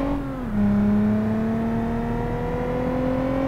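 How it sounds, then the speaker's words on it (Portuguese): Honda Civic fitted with a V6 engine and nitro in BeamNG.Drive, revving steadily: a loud, sustained engine drone whose pitch dips briefly and then climbs slowly and evenly, heard alone without talk. "Aí, entrou o nitro."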